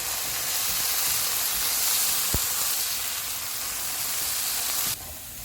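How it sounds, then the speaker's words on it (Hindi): Potato pieces frying with turmeric powder in hot oil over medium-high heat, a loud steady sizzle and hiss that continues throughout before dropping off sharply near the end. "ऑयल गर्म हो गया, इसमें आलू डालेंगे। चूल्हे को मैंने मीडियम टू हाई रखा हुआ है। हल्दी पाउडर डालेंगे, इनको 3 मिनट तक फ्राई करेंगे।"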